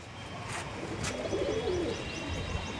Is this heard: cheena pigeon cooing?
yes